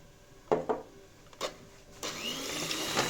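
Pancake batter of eggs, sugar and milk being mixed in a bowl, with a few sharp clinks of a utensil followed by a continuous scraping, swishing stir that grows steadier.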